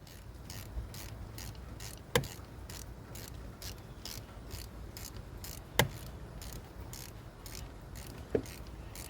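A ratchet loosens the valve cover bolts on an Audi 3.2 litre V6 FSI engine. Quiet, regular clicking runs steadily, broken by three sharper metallic clacks spaced a few seconds apart. No one speaks.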